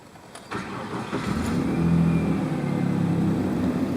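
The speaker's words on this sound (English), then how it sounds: "Now I'm going to go start the car." A car with a freshly cleaned mass airflow sensor cranks and catches about half a second in, then settles into a loud, steady idle close by.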